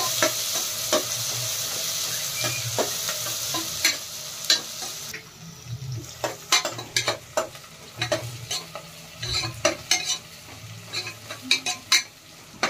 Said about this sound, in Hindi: प्याज को थोड़ा भूनने के लिए देखते हल्का ब्राउन होते तक से भूनना है प्याज को।